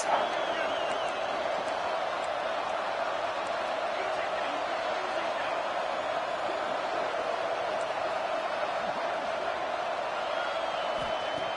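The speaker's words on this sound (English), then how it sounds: "And here comes the noise. This crowd is trying to inspire this defense to make a big red zone stop." Steady roar of a college football stadium crowd at an Ohio State game, building noise to urge the defense toward a red zone stop, loud, dense and continuous throughout with no clear breaks.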